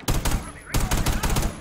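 Rapid bursts of video-game gunfire, several clipped volleys in quick succession with a brief gap in the middle, loud and close.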